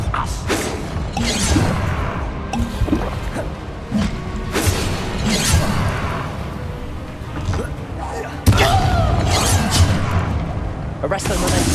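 Bombarda blasting spell explosions go off in Hogwarts Legacy combat: repeated booming, crashing bursts over dense game noise, with a sharp loud hit near the end, and character voices in the mix.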